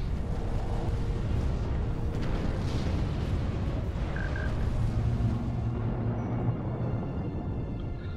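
A Titan starship explodes in the space strategy game Sins of a Solar Empire: Rebellion, a dense rumbling blast with crackling bursts that slowly fades, heard alone without talk.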